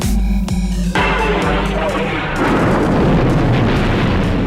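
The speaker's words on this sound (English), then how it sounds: "the Alderaan explosion" The Death Star destroys the planet Alderaan in Star Wars with a loud explosion, a deep roaring blast that swells into a long, dense rumble after a few brief tonal swells.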